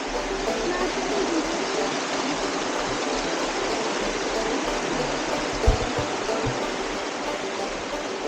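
A creek flows near small hot springs in Fiji, crossed on horseback. The water rushes as a steady, broad wash throughout, with one soft thump partway through and no voices.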